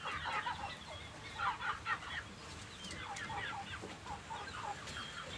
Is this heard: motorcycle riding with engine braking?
no